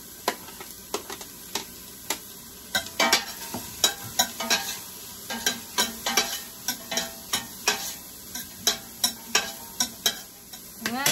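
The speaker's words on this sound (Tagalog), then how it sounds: "Tapos, igisa na natin itong ating bawang." Garlic sautéing in a pan for turkey noodle soup, a steady fine sizzle under a quick run of sharp spatula taps and scrapes, close and clear, no talking.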